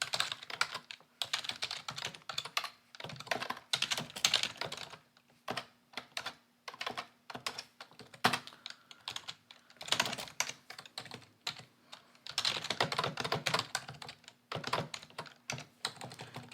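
Keystrokes on a computer keyboard entering a small C hello-world program, in irregular bursts of quick clicks with short pauses, close and clear with no talking.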